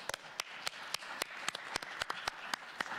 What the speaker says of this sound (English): So let's give Mr. and Dr. Ko a round of applause.